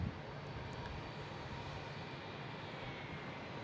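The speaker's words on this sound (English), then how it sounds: "We got a JetBlue coming into the alley here." A JetBlue airliner taxiing in at Boston Logan International Airport produces a steady, fairly distant engine rumble and hum that holds evenly throughout, with no voices.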